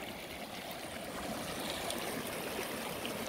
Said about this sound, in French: pour simplement entendre le bruit des ruisseaux, ça fait grand bien